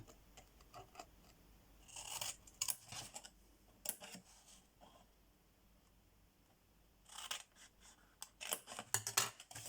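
Scissors snipping paper to cut out a craft box, bursts of crisp close cuts in two clusters separated by quieter handling noise, no talking.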